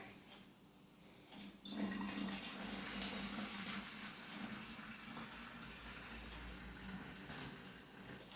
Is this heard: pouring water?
yes